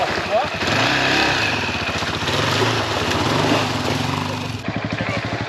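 A KTM motorcycle engine revs steadily during off-road riding in Portugal, loud and close, with a voice talking over it before the engine noise dips at the end.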